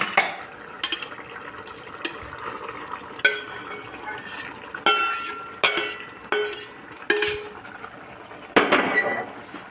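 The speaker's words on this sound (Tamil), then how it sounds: "சாதத்தை வடித்ததை இதில் போட்டுருவோம்." Drained, three-quarter-cooked rice is tipped into a pot for tuna fish biryani, with a series of sharp metal spoon knocks and scrapes between soft rustling and clinks, close and alone.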